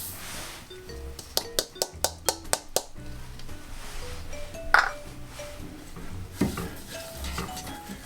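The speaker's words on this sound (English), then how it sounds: "And now we're going to add our sesame seeds into that." Sesame seeds are stirred into bubbling white sugar in a pan, with a quick run of bright metallic clinks from the spoon striking the pan, then softer scraping and occasional taps.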